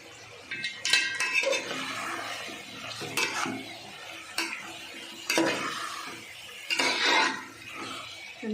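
Chicken pieces being mixed with masala in a pot for chicken dum biryani, with repeated scraping and clinking of a spoon against metal in uneven bursts, close and fairly loud, no talking.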